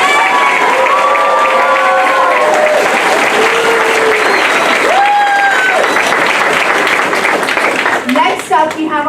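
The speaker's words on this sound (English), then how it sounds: "So please give them a huge round of applause." Loud, sustained applause and cheering from a school audience at a Lion King production, a dense wash of clapping with whoops and shouts rising over it throughout.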